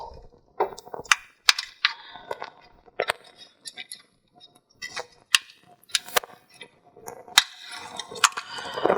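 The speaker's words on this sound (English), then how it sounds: "you gotta unclip this clip down here, which is a pain in the ass. But it's plastic" A plastic retaining clip is worked loose while removing the radiator from a 2019 Acura TLX, heard as sparse close clicks, snaps and small taps scattered across near-silence in an uneven rhythm.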